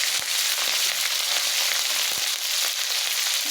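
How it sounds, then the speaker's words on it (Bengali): Bay leaf and green chili fry in hot oil in a village kitchen, giving a loud, continuous sizzle and crackle with a few sharp pops throughout. "তেজপাতা, কাঁচা লঙ্কা ফোড়ন দিয়েছে।"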